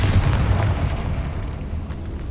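Confringo blasting spell detonating in Hogwarts Legacy: a loud, deep booming blast with a rumbling tail that stays dense and heavy for about two seconds.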